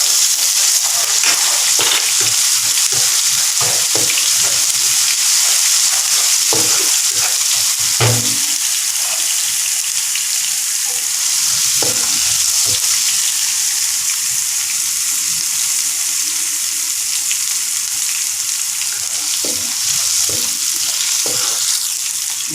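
Ginger and garlic sizzle loudly in a hot pan for a long stretch. The spitting hiss stays dense and even, broken by repeated sharp spatula scrapes and stirring knocks.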